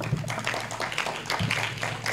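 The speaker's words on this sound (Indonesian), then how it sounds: "Tepuk tangan dulu." Audience at a student conference applauding, a scattered, moderately loud patter of hand claps with a few stronger individual claps, no voices over it.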